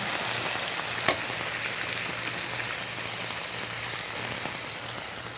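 Ghee heating in a pan over medium heat, a steady, close hiss of sizzling fat with one small tap early on, no talking.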